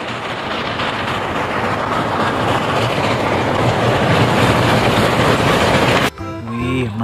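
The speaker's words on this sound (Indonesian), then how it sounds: "Di sini ada kereta teman-teman." Steady rolling clatter of a toy train running along its track for several seconds, close and loud, ending abruptly.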